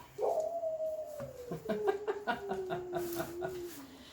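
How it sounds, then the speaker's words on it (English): A female dog that is not a hound lets out a long, drawn-out howl that slides slowly downward, broken by whimpering yips, fairly faint and with no one talking. "You would think she's a hound dog, but she's not."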